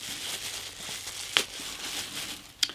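Rustling and crinkling of a red plastic bag, a quiet rummage with two sharper crackles standing out briefly.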